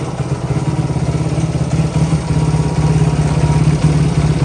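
Pit bike, a Xduro 160 Gold Edition, idling steadily right after a carburetor adjustment, its close engine putting out an even, rapid mechanical chug with light clatter and no voices.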